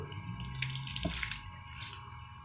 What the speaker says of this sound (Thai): แล้วคราวนี้เราก็ ใส่น้ำครับ เอาน้ำใส่เข้าไปครับ